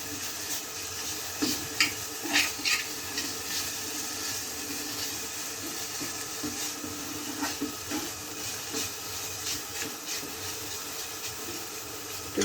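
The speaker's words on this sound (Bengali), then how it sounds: "এখন গোশ একটু লাল লাল করে ভেজে নিতে হবে," Meat fries with onion and garlic in a pan, a soft continuous sizzle with occasional louder scrapes and bumps as the mixture is stirred, close by and without talk.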